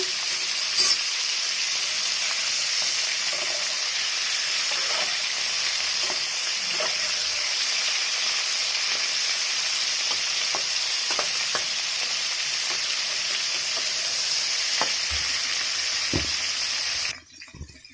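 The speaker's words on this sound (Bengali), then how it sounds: "এটাকে এবার আমি হালকা করে ভেজে নেব" Boiled cauliflower pieces frying in oil, a loud, steady, close hiss with scattered pops and light stirring clicks, cutting off abruptly near the end.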